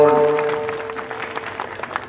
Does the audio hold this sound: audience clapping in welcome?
yes